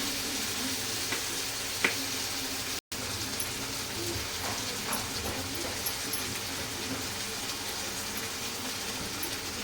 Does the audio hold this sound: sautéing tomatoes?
yes